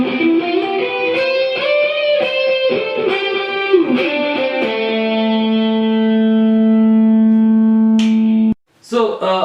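A D'Angelico Brighton Premier electric guitar with single-coil and humbucker pickups, bridge set to single coil and neck to humbucker, plays a run of notes and chords, then holds one long ringing chord before a brief break and a strummed restart.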